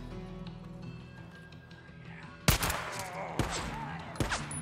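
Gunfire in the video game Days Gone comes as a few sharp, loud shots over a low ambient background.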